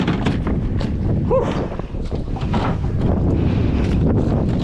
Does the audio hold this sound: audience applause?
no